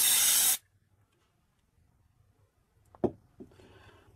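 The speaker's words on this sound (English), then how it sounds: "So you simply blow the compressed air into the opening of the detector port at a low" Compressed air is blown into the opening of an optical detector port on fiber optic test equipment, a loud close hiss lasting about half a second that cuts off abruptly, followed by faint handling knocks.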